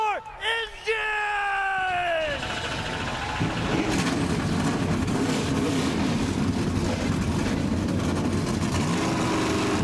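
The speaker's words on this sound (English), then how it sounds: "Drivers, start your engine!" Race car engines fire up at Kansas Speedway on a Friday night for the Kansas Lottery 200. A voice first calls out a command, then a dense, loud, sustained engine roar takes over and holds steady to the end.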